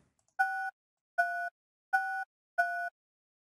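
Phone keypad tones sound while an admin PIN is entered on a conference bridge call. Four identical, clean electronic beeps of equal length come at an even pace over silence.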